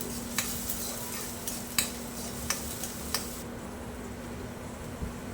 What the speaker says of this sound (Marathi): आणि कांदे व्यवस्थित लाल होईपर्यंत परतून घ्यायचे